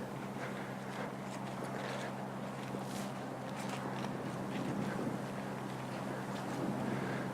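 Wind blows steadily across an outdoor microphone, producing continuous broadband buffeting and rumble with no clear pauses, and no voices are heard.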